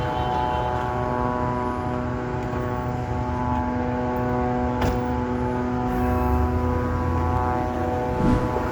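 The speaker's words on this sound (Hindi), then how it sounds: "लेबनान के आसमान पर 24 घंटे इजराइल के ड्रोन उड़ते हुए नजर आ रहे हैं" Israeli drone flying over Lebanon, a steady continuous propeller-engine drone overhead with a tonal, slightly wavering whine, fairly loud and even throughout, no talk.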